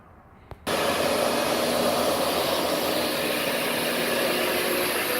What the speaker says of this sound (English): we're going to go ahead and get the shop vac and try to clean much as we can on the intake